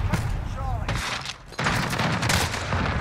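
Loud bursts of gunfire from a shotgun in a Call of Duty match, a dense volley of blasts with a short lull midway, then more firing, while a voice talks over the action.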